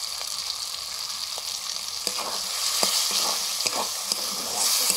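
Spices fry with chana masala in a hot pan, sizzling loudly and continuously while a spatula stirs them, with scattered sharp scrapes and taps over the steady hiss.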